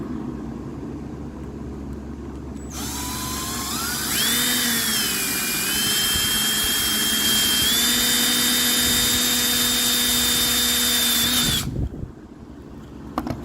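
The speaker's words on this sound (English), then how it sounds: "I'm gonna attempt to film this while drilling one-handed." A power drill bores through thick steel during fabrication on a turbocharged Miata build, starting abruptly, whining up in pitch as the bit bites, holding a loud steady tone for several seconds, then cutting off sharply.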